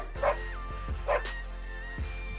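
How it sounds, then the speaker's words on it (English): Two dogs give several short, sharp barks and yips, spaced irregularly and moderately close, over a steady hum and a faint tone in the room. "Oh, my dogs are definitely letting me know."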